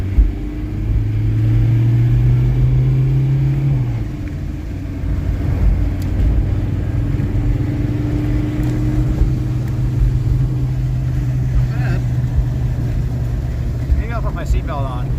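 A 1986 Jetta's 1.6 turbo diesel engine runs under load as the car drives, a low steady rumble with gear-change dips and rises, close and continuous from inside the cabin.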